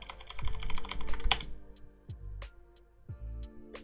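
Keys on a computer keyboard are struck in short bursts, a handful of crisp, close clacks with brief pauses between them and no talking.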